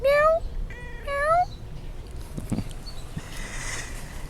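A pet kitten gives two clear, close, rising meows in quick succession, followed by faint rustling and soft room noise.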